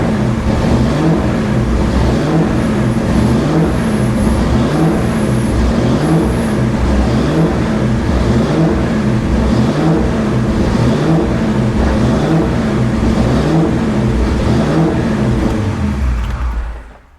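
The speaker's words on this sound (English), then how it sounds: "The thing just decided to go off on me and rev all over the place." A 1991 Ford Mustang Foxbody engine with a Tremec T56 swap revs erratically and loudly up close, its pitch surging and dropping unevenly for a long stretch before cutting off abruptly at the end, with no voices over it.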